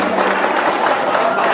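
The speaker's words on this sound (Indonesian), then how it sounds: "Tepuk tangan dulu." A short burst of crowd clapping rises at a religious sermon, brief and fairly loud, with a murmur of the gathering mixed in.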